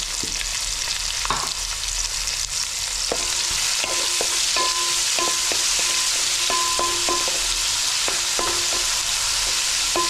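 Onions and green chillies fry in a pan with a loud, steady hiss that carries all the way through. Scattered clinks and scrapes from stirring sound over it, and there is no talking.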